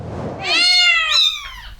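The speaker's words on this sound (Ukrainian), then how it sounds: "Це один із котів, яких привезли волонтери із Сумщини." A cat evacuated by volunteers from the Sumy region and now at a shelter gives one long, loud, close meow that rises and falls, with a second shorter call running into it.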